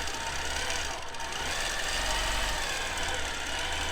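Gammill Classic Plus longarm machine stitching free motion quilting, a steady fast mechanical hum and rapid needle chatter running continuously at close range, with no voices.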